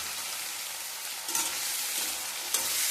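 Onion and cut snake gourd sauté in hot oil, sizzling continuously up close, with two brief scraping stirs breaking through the frying hiss.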